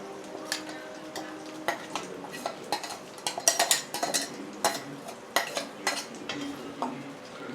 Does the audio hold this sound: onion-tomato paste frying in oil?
yes